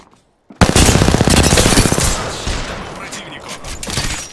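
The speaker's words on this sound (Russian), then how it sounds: "Враги стреляют по мне." Enemy gunfire in the Apex Legends battle royale game erupts suddenly after a short silence. It is a loud, rapid automatic volley that slowly tails off over several seconds.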